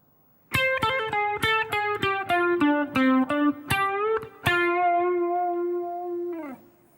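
Main theme phrase on electric guitar with effects: fast hammer-ons and pull-offs across the strings, then a held, ringing final note that cuts off. Close, loud, no talking.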